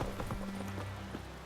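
Horse hooves clip-clopping in The Witcher 3: Wild Hunt on PS4, a short run of quick, muffled hoofbeats under a low tonal hum of game sound.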